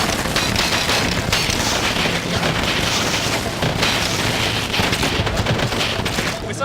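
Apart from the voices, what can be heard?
explosions and gunfire effects from a video game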